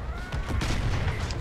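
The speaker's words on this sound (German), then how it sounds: "Alter, die kommen von überall Schüsse" Dense gunfire erupts from all directions in a Call of Duty: Modern Warfare match: sharp overlapping shots and booms crowd together in a continuous, loud barrage with no pauses.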